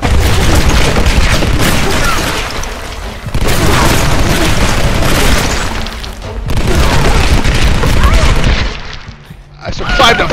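A volley of grenade launcher blasts in the Tomb Raider video game, several loud booming explosions in bursts with rumbling tails, heavy and close, separated by short lulls.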